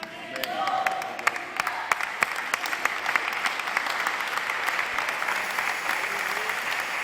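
Applause from a church congregation fills the space, dense and steady with sharp individual claps standing out, fairly loud and sustained throughout.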